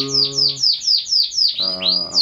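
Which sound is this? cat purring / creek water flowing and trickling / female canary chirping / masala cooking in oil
female canary chirping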